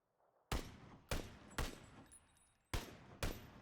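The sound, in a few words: PUBG gunfire with muzzle brake attachment, video game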